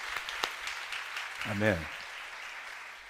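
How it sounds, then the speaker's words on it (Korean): A large congregation of several thousand applauds during a long church worship service, a faint, steady wash of clapping heard from a distance while a single voice calls out briefly over it. "우리 주님 앞에 영광의 박수 올려드리겠습니다"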